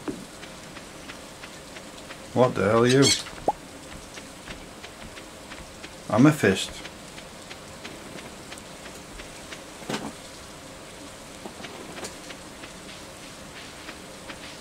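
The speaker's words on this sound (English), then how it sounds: "Oh, it's raining." Rain falling in the Stardew Valley farming game, a steady soft patter under two bursts of a loud game sound effect and a few brief spoken words.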